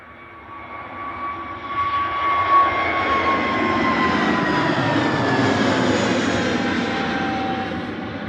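A KLM airliner taxis out at Manchester Airport, its jet engines giving a steady whining roar with a high tonal whistle that swells and holds at moderate distance, with no voices.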